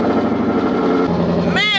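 A twin-turbo LS-swapped Foxbody's engine runs loud and steady at close range, a continuous droning roar that holds for the whole stretch without letting up.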